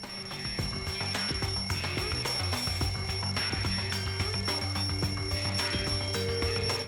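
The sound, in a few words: alarm clock ringing in video game Danganronpa 2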